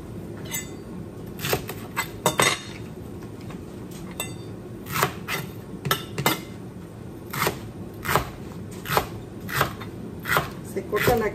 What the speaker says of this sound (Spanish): Voy a cortar el apio